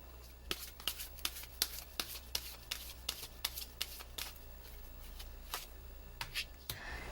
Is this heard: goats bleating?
no